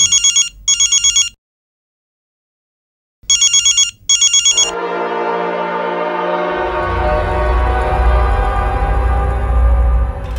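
A telephone rings in two short double bursts separated by silence, then gives way to a sustained, swelling musical tone.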